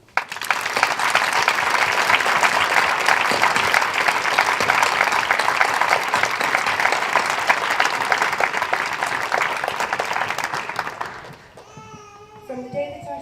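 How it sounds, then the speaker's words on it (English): Sustained audience applause at a university graduation ceremony, a dense wash of clapping from a large crowd lasting around eleven seconds before fading into a few voices. "Please join me in a round of applause for all of the people that I have discussed"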